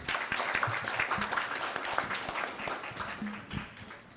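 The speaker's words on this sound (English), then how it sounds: "So applause to everyone" Applause from the audience at an opening ceremony of an international symposium on wildlife biodiversity conservation, scattered, fairly soft clapping from many hands in a large hall, with faint voices mixed in.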